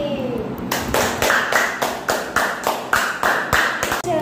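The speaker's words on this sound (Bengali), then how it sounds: "হাততালি।" Children's hand clapping in a home setting: a series of about eight sharp, evenly spaced claps ringing out close and clear after a brief moment of quiet.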